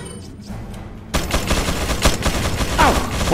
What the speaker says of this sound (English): Now, I can shoot the barrels,